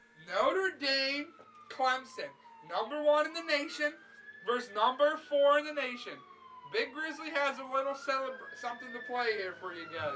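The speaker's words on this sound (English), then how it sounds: "there you hear the sirens." Sirens wail and slowly rise and fall in the distance outdoors, faint and sustained beneath someone talking steadily in the foreground.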